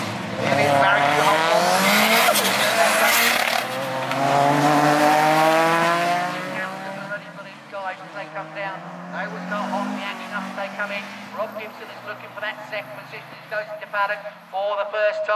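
Rallycross cars including a Lancia and a Mark II Ford Escort racing at Lydden Hill, engines revving and howling loudly, then snarling through gear changes with tyre noise, under continuous commentary.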